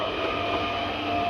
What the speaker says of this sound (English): That's the train coming.